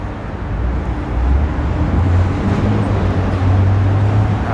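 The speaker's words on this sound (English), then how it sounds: "so we're not listening to the loud traffic" Loud, steady street traffic in Williamsburg, Brooklyn, a continuous low engine rumble and roadway roar close by with no pauses, building slightly in intensity.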